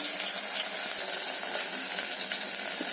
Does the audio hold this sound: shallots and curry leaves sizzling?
yes